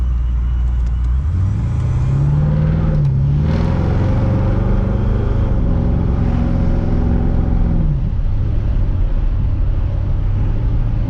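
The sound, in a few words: Chevy with ProCharged LS engine revving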